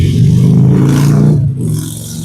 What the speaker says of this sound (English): Oh, it's a motorcycle.